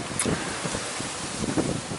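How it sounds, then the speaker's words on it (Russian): Strong wind buffets an outdoor dig site, a continuous loud roaring rush with gusty swells and no voices. "Как вы видите, у нас ветер очень сильный."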